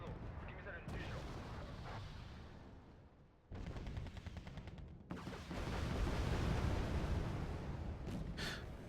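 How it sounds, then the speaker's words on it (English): Artillery bombardment in the Wargame Red Dragon video game, with heavy booming impacts and rumbling blasts rolling over dense battlefield noise, growing louder and fuller toward the end. "Couple of well-placed bombardment might be good."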